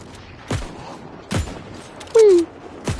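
Gunshots in the video game New World, three or four separate sharp reports spaced about a second apart at moderate distance, with one short whistling tone partway through and no talk.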